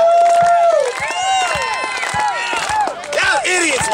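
A Chicago wrestling crowd at an STPW show keeps up a rhythmic clapping chant, sharp claps landing over loud cheering, whistles and shouting voices close by.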